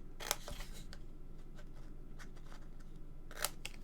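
Scissors snip fabric corners in two quick, crisp cuts a few seconds apart, close and fairly quiet, with faint rustling in between.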